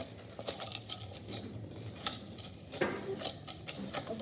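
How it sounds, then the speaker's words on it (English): Chocolate chess pie filling with butter and cocoa being whisked in a bowl, a steady light patter of quick metallic taps and scrapes, fairly close and moderately quiet. "All right, whisk that up. Make sure you dig all the way to the bottom."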